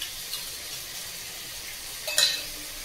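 A quiet, faint sizzle of chicken frying in a pan simmers along, then a brief louder hiss and crackle near the end as a little bowl-rinsing water hits the hot pan.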